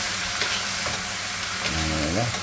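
Beef sautéing with tomato in a pan, a loud continuous sizzle with stirring scrapes, and a short tonal squeak or voice-like sound near the end.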